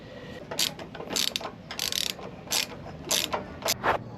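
Tightening a bolt through a boat trailer winch strap, a close series of quick ratcheting clicks in short bursts of varying length separated by brief gaps, with no talking.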